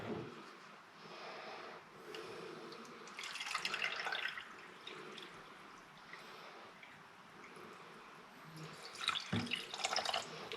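Water poured into a measuring cup in a home kitchen while making cucumber and mint sorbet, a soft close trickle and splash that swells in short bursts, fairly quiet.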